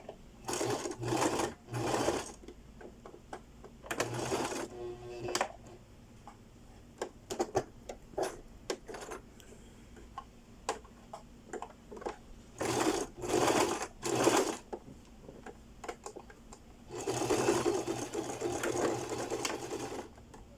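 A sewing machine stitches a bodice seam at one centimetre, running in repeated bursts of rapid mechanical chatter separated by short pauses, loud and close throughout.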